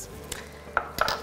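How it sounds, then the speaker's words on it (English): Ingredients for a keto recipe mixed in a bowl, a few quick clinks and scrapes of a utensil against the dish, close and moderately loud, with brief pauses between strokes and no talk. "Okay, mix that around."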